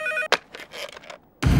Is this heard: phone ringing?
yes